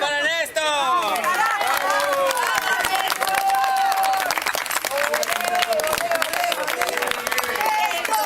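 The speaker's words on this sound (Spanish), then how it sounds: "¡Un aplauso para Néstor!" Audience applause and cheering for Néstor at a lively crowd event, sustained clapping mixed with crowd noise and babble, with a voice singing or calling out over it throughout.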